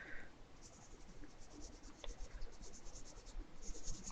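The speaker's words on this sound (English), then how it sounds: "So I'm just going to draw like this skull." A pencil sketches a skull on paper, giving a faint, steady scratching of graphite across the sheet with small irregular strokes and no talk.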